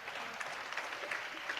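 A church congregation claps together in an even, sustained round of applause that sounds somewhat distant and stays fairly quiet, with no voices over it.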